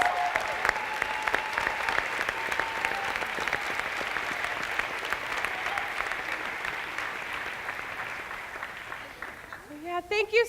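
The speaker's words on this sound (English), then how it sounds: "if you'd just like to give them a round of applause" A school theatre audience applauds at a Sunday performance of Singing in the Rain, with loud, sustained clapping over several seconds that tapers off as a voice begins speaking at the end.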